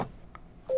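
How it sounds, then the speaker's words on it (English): A mobile phone goes off with a short electronic beep, followed by a sustained steady tone, brief and fairly clear against a quiet room. "My phone just went off too."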